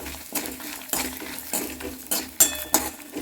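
Dried red chillies, cumin and coriander stirred in a hot pan with a metal spoon, a rhythmic scrape and clink every half second over a light sizzle, close and without talk.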